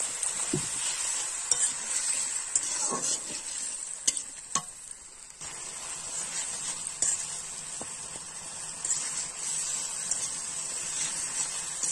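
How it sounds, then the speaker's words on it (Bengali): Spice masala fries in oil in a pan while being stirred repeatedly, a moderate, continuous sizzle punctuated by scattered clinks and scrapes of a utensil against the pan, without voices. "এই সময় মশলা কিন্তু বারবার নাড়াচাড়া করে নিতে হবে, তা না হলে পুড়ে উঠবে।"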